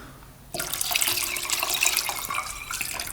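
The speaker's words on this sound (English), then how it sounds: "we'll use some Simple Green, this stuff degreaser. Pour some of that in there." Simple Green degreaser pours into an ultrasonic cleaner in a steady splashing stream that starts abruptly after a short quiet moment, bright and close, continuing alone without talk.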